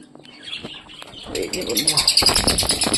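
Several budgerigars, a classic, a rainbow and a lutino, chirp and twitter in a cage. The calls start sparse and build into a busy, fairly close stream of rapid high chirps.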